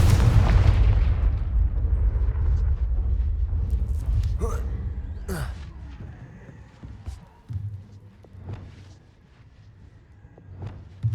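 A spell in a video game detonates in a deep, heavy boom that rolls and fades over several seconds, followed by scattered crackles and small pops from the game, with a brief low thump returning near the end.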